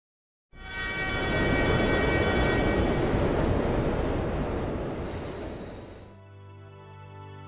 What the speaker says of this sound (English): Once you're out and almost get hit by a train